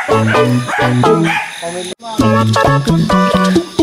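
Several dogs bark loudly and repeatedly nearby, overlapping yips and barks in quick bursts, at Buruwisan Falls, Siniloan, Laguna.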